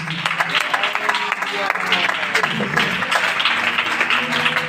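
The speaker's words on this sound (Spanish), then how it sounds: "este fuerte aplauso" Strong applause fills a church congregation, dense and steady throughout, with voices talking over the clapping.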